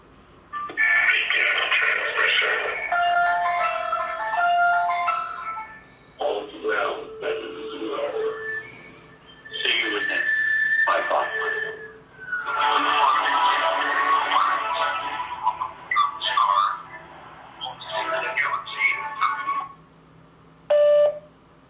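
A phone dials a dark web number on Halloween, giving a run of electronic beeps and ringing tones, with bursts of voice and noisy stretches between them.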